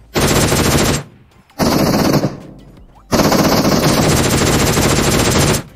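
Automatic gunfire from PUBG Mobile rips out in loud sustained bursts, a first spray, a short pause, a brief second burst, then a longer continuous stream, with no talk over it.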